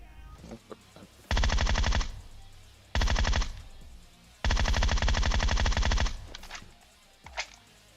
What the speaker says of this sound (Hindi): मैंने सोचा क्यों ना ग्रोजा और 6x चलाया जाए